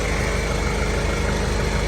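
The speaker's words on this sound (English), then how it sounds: "Here's the air compressor. Check this out." A portable air compressor runs loud and close with a steady droning, vibrating motor hum while it fills large 14-inch tires on an old Mercedes.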